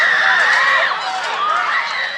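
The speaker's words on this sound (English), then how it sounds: "screams ring out from the crowd" Crowd screams and shrieks right after gunfire at an outdoor political rally, a dense wash of panicked high-pitched voices sustained throughout, loud and close.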